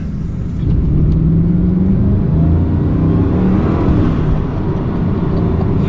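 Bugatti Chiron W16 quad-turbo engine at light throttle, a loud steady low rumble and whir heard from inside the car, swelling slightly and holding constant throughout.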